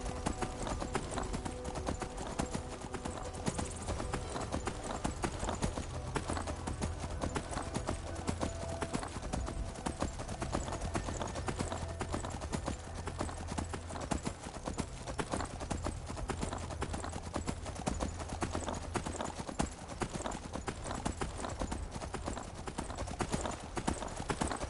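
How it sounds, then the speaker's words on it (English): Steady clip-clop of a saddled horse's hooves in the video game Skyrim, plodding at an even rhythm, with a constant background hiss and no talking. "Random horse. With a saddle. And now there's somebody on it."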